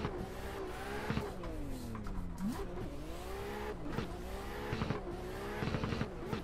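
A race car engine drives in the Inertia Irish Pro Car Pack video game, revving up and down through gear changes with a steady buzzing drone, moderately quiet and continuous.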